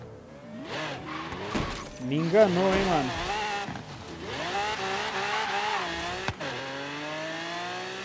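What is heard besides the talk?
car accelerating in Forza Horizon 3 video game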